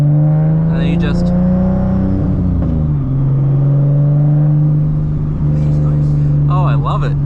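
Turbocharged 2010 Nissan 370Z Nismo with a race clutch on the move, a loud steady engine drone with shifting pitch heard from inside the cabin, with short bursts of voices over it.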